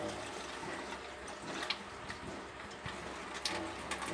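Water running out of a 3-in-1 alkaline water purifier after filtering, a soft continuous trickle and splash with faint ticks, quiet and steady.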